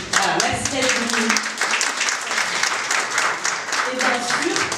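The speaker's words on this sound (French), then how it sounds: "je vais vous demander d'applaudir" Audience applause at the Miss Belle Kabylie 2017 pageant, steady dense clapping throughout with a crowd's voices and cheers mixed in.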